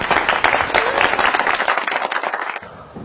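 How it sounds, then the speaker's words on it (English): Audience applause breaks out after a finger-ring magic trick, a dense burst of many hands clapping close and steady before tapering off near the end. "You'll all get a nice round of applause."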